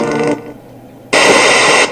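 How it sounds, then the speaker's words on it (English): An FCD Mk4 ghost box radio sweeps in loud bursts of harsh, buzzy static and tone. One short burst is followed by a quieter gap, then a second, longer burst. "You'll know it's sweeping by these bursts of sound."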